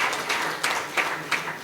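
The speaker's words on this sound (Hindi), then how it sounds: "लेकिन जोरदार तालियां तो उसके लिए बजती है।" An audience claps at an award ceremony for an innovation competition's grand finale, a steady patter with a few louder surges of applause.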